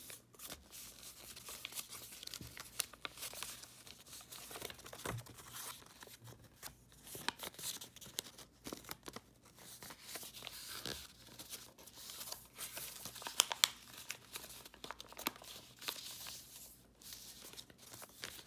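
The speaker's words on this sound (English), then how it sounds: "pull this flap of paper up and fold inwards on the folds that we just made" Paper being folded into an origami crane, with close, soft crinkling, creasing and rustling that goes on throughout, quiet and without any talk.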